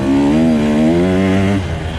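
A Husqvarna TE-150 dirt bike fitted with a power core silencer, its engine revving up in a loud, close, buzzy whine that climbs in pitch and then drops off after about a second and a half.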